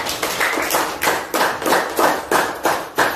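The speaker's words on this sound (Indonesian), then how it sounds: "Tepuk tangan semuanya." A school class claps hands together in a rhythmic pattern, about eight loud evenly spaced bursts of group clapping with no talk.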